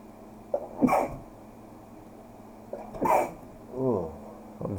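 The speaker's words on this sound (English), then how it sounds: "Do people sneeze on podcasts?" A person sneezes twice, close and sharp, each burst with a quick intake and explosive release, followed by a softer throaty sound near the end.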